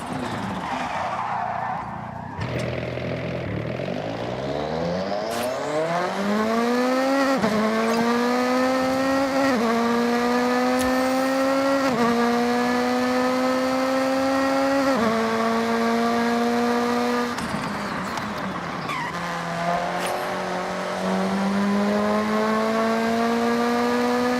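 Car engine in the Forza Horizon 6 racing game revving and climbing through gears, with rising tones broken by repeated shifts, loud and continuous across the whole stretch with some tire noise.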